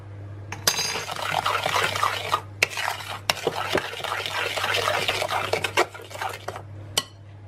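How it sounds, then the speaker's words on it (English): A utensil stirs baking soda and baking powder into oatmeal cookie dough in a bowl, giving close, scraping and clinking strokes in uneven bursts with short pauses, over a low steady hum. "Just mix those in a bit."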